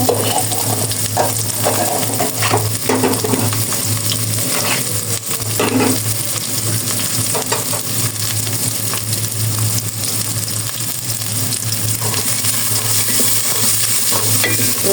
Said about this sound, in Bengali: এভাবে দিয়ে হালকা ভেজে দিতে হবে